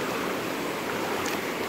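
River water rushes steadily during a crossing of a swollen river, a dense, continuous, close-up flowing hiss with no voices.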